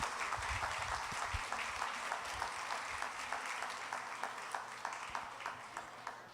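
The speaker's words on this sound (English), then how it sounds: "round of applause" A round of applause from a pub audience at a cannabis science talk, dense and steady for several seconds before gradually thinning, heard at a moderate distance.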